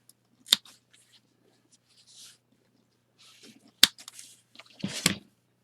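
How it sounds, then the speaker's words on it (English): Scissors snip off yarn ends on a loom-knitted doll, three sharp close clicks spread across a quiet stretch with faint handling rustle between them. "and then snip these ends"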